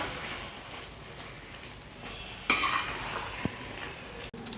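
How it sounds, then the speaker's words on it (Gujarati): A spoon stirs yogurt into a vegetable curry in a pan over a low gas flame: soft scraping and a gentle sizzle, then a sharp clink of utensil on metal, quiet and close, with no talk. "દહીં નાખ્યા બાદ સતત હલાવતા પણ રહીશું બધી સામગ્રી એકદમ સારી રીતે મિક્સ કરી લઈએ"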